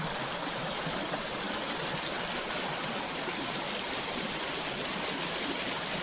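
Water rushing down a spillway from a lake at a hydro site, a steady broadband roar of flowing water, continuous and close with no voices.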